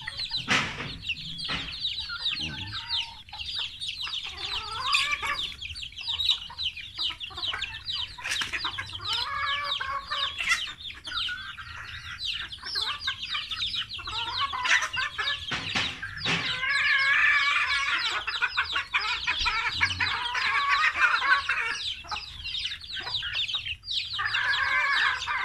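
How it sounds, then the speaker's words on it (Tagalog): A flock of chickens clucks continuously in a dense, busy chorus, fed scattered rice, with overlapping calls near and far and occasional sharper squawks. "Ang mga manok."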